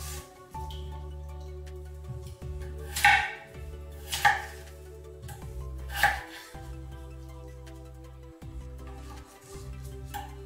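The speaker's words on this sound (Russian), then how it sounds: "Вот картошку нарезаю крупно." Knife chopping potatoes into large pieces on a board, with a few sharp, loud chops spaced about every one to two seconds over a steady low hum.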